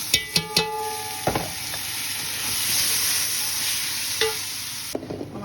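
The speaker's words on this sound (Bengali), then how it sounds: "আমার এখানে চালটা ভাজা হয়ে গেছে" Rice fries in a hot pan while being stirred, a steady sizzle under sharp scraping and clinking strokes of the spoon against the pan, close and alone without talk.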